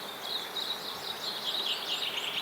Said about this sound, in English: But you see how the bellbird call really carries?